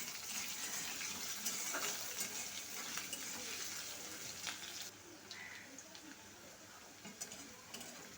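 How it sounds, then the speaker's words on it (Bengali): Potatoes fry in a pan with spices, a dense continuous sizzle and crackle of hot oil with occasional soft stirring scrapes, steady and fairly close. "আলুটা বেশ সুন্দর করে আমি ভেজে নেব।"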